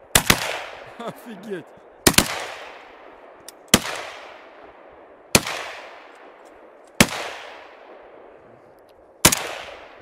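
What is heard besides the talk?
machine gun and other gunfire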